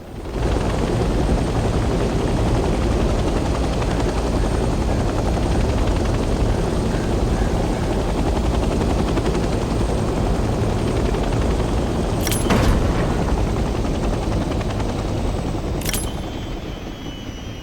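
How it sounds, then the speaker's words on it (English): Steady, loud helicopter rotor and engine drone from the video game Hell Let Loose: Vietnam, continuous throughout, with a couple of brief sharp clicks near the end as the helicopter lands on a helipad and the engine is turned off. "Let's land the helicopter on a helipad and turn the engine off."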